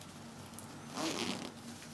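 A trouser fly zipper being handled while a zip is sewn into a pair of trousers, a short soft rasp of the teeth in the middle of the clip against a quiet room background.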